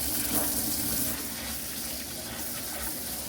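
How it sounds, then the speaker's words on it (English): Tap water runs steadily into a sink as a wig is rinsed, a continuous close splashing stream with no talk over it. "So you're going to let your water out"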